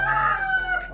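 A rooster crows once, loud and close, a single sustained call that trails off near the end.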